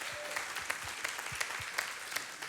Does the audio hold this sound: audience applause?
yes